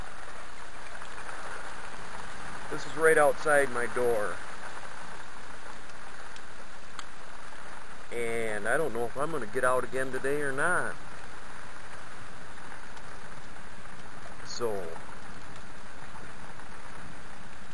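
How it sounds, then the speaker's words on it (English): Heavy rain pours just outside a door during a thunderstorm, a steady close hiss running throughout beneath someone talking. "It's been raining cats and frickin' dogs."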